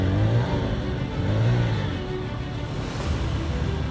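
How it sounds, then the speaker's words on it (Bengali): A motorcycle engine labors and revs steadily over a broken, potholed rural road, a continuous close drone with surges in throttle and no voices. "ক্লাচ পুরো ঘুরিয়েও বাইক এগোনোই দুরূহ।"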